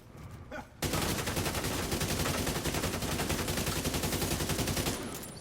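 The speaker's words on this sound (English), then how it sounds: "He's gonna shoot the freaking" Sustained rapid automatic gunfire in The Division 2, starting abruptly after a short pause and continuing as a loud, dense rattle, fading slightly at the end.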